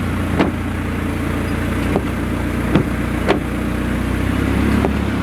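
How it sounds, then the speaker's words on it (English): A car in four-wheel drive on a rough road in the Philippines rumbles steadily, with a few sharp knocks and jolts from the suspension spread through the ride. No one speaks. "we're in four-wheel drive right now"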